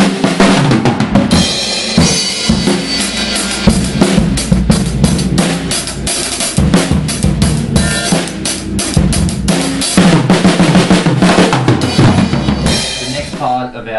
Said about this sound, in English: we're just going to do some jamming now in the kit.